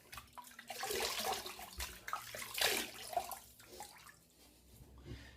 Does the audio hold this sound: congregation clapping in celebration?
no